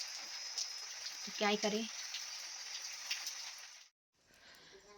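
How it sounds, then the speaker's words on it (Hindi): Heavy rain pours down in a steady, broadband hiss of falling water. A person speaks briefly over it before the sound cuts out and then resumes more faintly. "बारिश रुकने का नाम नहीं ले रही है"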